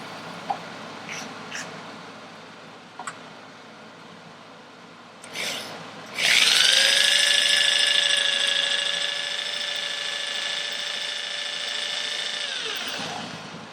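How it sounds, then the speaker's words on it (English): A power drill whirs up after a few taps and a brief burst, then runs at a steady high-pitched whine for several seconds, close and loud, starting a hole into a stud. "I just want to start the drill in there"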